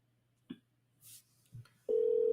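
A telephone line sounds a steady electronic tone on a call that goes unanswered. A few faint clicks and rustles come first, then the tone sets in loud and unbroken for the last moments.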